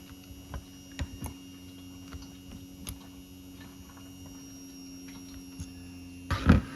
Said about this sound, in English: Now that fuel pump has slowed down quite a bit, yeah, and you can hear it, it's loaded up.